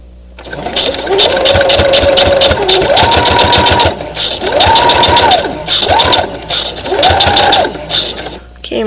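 A sewing machine stitches fabric pads with a thick core, running in several sustained bursts of rapid whirring with short pauses between them, loud and close.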